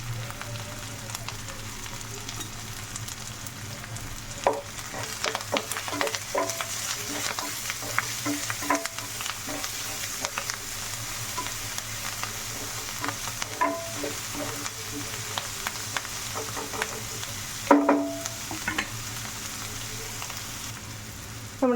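Green chillies, ground kanthari chilli paste and curry leaves sauté in a pan for a Christmas pork dish, giving a steady close sizzle with frequent scraping stirs and utensil clicks throughout, and no talk.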